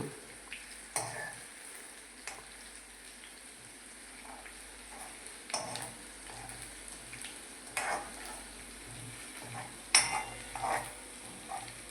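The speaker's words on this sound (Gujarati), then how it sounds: "આદુ મરચાંને પાકવા દઈશું થોડીક વાર હલાવીશું" Ginger and green chillies cook in a pan over a lowered gas flame for a pepper and onion dish, with a soft, steady sizzle and scattered scrapes and clinks of a spoon stirring, quiet and close throughout.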